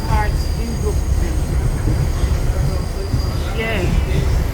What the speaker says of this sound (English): I'm sitting in the train.